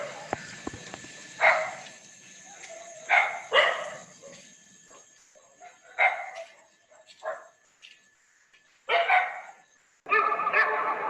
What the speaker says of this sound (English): we might also hear the barking of dogs or the howling of dogs